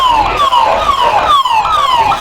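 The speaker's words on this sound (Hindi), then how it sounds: "देखिए ये एम्बुलेंस गई।" An ambulance siren wails close by in a repeating falling sweep, loud and steady, during a stampede at the Maha Kumbh 2025 gathering in Prayagraj.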